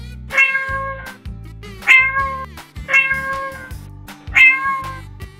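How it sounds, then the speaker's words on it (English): A cat meows four times in a slow, even rhythm, each clear, close meow separated by brief pauses, with no talking. "That's right, it's a cat."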